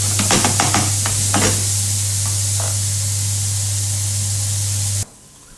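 Onions sauteing in oil in a pan for a cottage pie, a steady loud sizzle with a few stirring scrapes early on, close and continuous until it suddenly cuts off near the end.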